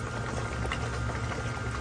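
Water gushes out of a Sta-Rite Dura-Glas pool pump housing as the collar is removed, a steady, close hissing rush of flowing liquid that carries on without talk.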